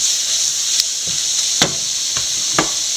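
Duck pieces fry in a hot pan with a constant loud sizzle, broken by a few sharp spatters and stirring clicks.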